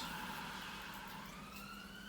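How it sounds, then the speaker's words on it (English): Emergency vehicle sirens passing outside, heard faintly in the distance as a sustained wailing tone that slowly rises in pitch over a steady background hum. "excuse the sirens"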